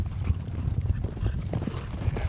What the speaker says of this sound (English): Fun to watch the horses run, watch those cowboys work.